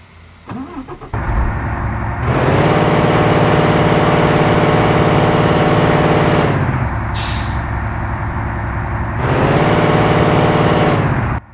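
Ashok Leyland BS6 truck engine starting and running loud and close, with two long revs to a high, steady roar separated by a drop back to idle, and a brief hiss between them.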